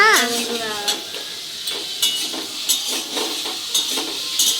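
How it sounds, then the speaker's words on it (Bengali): Paneer fries in a pan with turmeric and salt, giving a steady sizzle punctuated by regular scraping clicks of a spatula against the pan; a brief voice is heard at the very start. "লবণ দিয়ে পনিরটা ভাজলে সুন্দর হয় খেতে"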